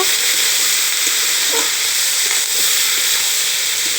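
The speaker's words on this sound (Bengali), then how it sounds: "ভাতটা দিয়ে ভালো করে নেড়ে চেড়ে নেব" Leftover soaked panta bhat rice stir-fried in a wok, a loud continuous sizzle with faint scraping and stirring over it.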